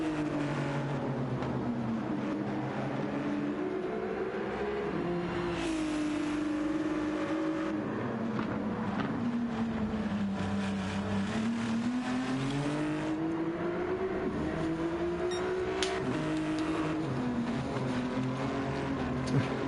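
A Ferrari race car at Brands Hatch drones steadily and continuously, its engine pitch rising and falling through the corners, heard from onboard without talk.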